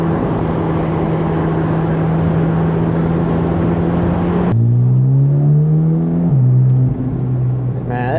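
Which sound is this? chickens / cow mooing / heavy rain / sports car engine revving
sports car engine revving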